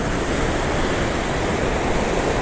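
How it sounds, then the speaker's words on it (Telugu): Manjira river water flowing near a dam, a steady broadband rushing roar that holds evenly throughout with no speech. "మాంజీరా నది ప్రవహిస్తుంది, అలుపెరగని మాంజీరా నది"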